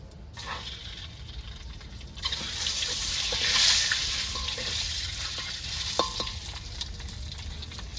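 Egg and chicken curry frying in a pan, a dense steady sizzle that swells after a quieter start, with occasional stirring scrapes close by.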